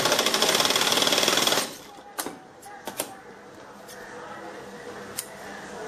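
A sewing machine stitching a nightgown runs in a loud, fast, steady buzz for about a second and a half, then stops. A few sharp clicks and handling sounds follow over a quiet room.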